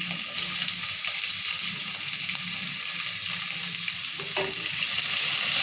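Onion and tomato frying in a pan for wheat rava upma: a steady, loud sizzle that runs the whole time, with light stirring noises and no talking.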